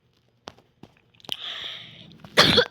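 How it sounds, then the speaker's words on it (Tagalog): A person gives a single sharp cough near the end, after a few scattered clicks and a faint hiss. "Sorry guys, may ubo ako."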